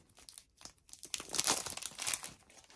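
A gashapon capsule toy package from a Disney heroine doll series is opened by hand, with close, rustling crinkles and tearing of plastic that swell in the middle, with no talk.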